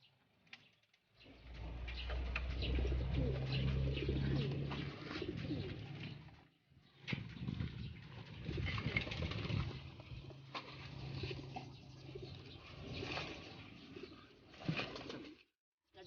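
Pigeons cooing nearby with soft repeated calls over a steady low hum and some rustling, with short pauses between stretches.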